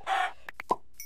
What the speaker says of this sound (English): Chickens are so easy to kill.